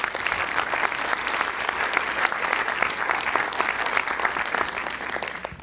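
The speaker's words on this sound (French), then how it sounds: "On va les applaudir quand même." A festival audience in a cinema hall claps warmly, a thick, continuous patter of many hands, loud and close, sustained evenly before fading slightly at the very end.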